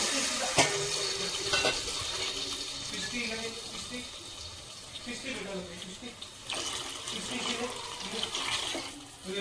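Water is poured into a pot for bagara rice, making a close, splashing stream that fades partway through and then picks up again, with a person speaking over it.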